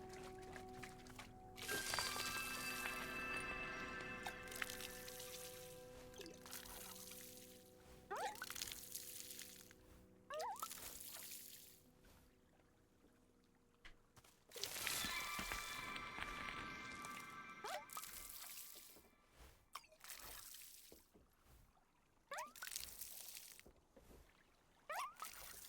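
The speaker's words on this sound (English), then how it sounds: "And let's go water that pink flower egg." A watering can waters a pink flower in the video game Wanderstop: several separate bursts of splashing, trickling water, each lasting a few seconds with quiet gaps between, over gentle background music.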